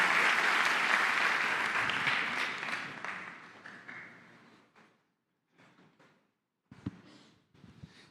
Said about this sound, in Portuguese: Quem pode aplaudir a vida do pastor?